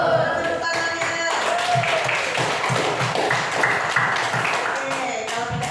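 Students clap for a pencak silat group's performance in a classroom teaching session, a dense, steady patter of many hands lasting several seconds with voices mixed in underneath.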